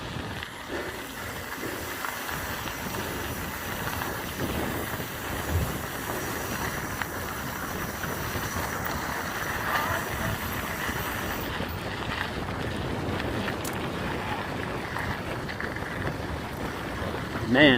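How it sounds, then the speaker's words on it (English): Strong wind roars across the microphone during a downhill mountain bike race descent, a steady, loud buffeting rush with low rumble that never lets up, with faint voices mixed into the noise. "Man, it's windy."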